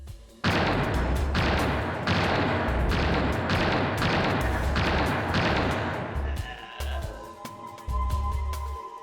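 Gunshots in the game Virus: It is Aware ring out as a steady series of loud, evenly spaced blasts, about eight in a row, then a few scattered shots trail off among quieter game sounds.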